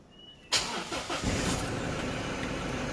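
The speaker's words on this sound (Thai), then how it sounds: "เดี๋ยวลองสตาร์ทเครื่องให้ดู" After a moment of quiet, a 2019 Isuzu D-Max 1.9L pickup truck engine cranks briefly and catches, then settles into a steady rumbling idle nearby.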